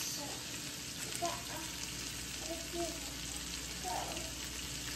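Pork cubes sizzle and fry in a pan for pancit miki gisado, a steady low crackle with a few faint stirring sounds, quiet and continuous.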